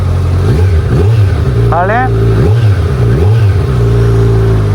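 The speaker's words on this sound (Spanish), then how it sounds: "Suena a las mil maravillas, como tetracilíndrico que es" Kawasaki Z900 naked motorcycle with a four-cylinder engine revving in a few rising and falling blips from around idle, close and loud, with a short voice heard briefly over it.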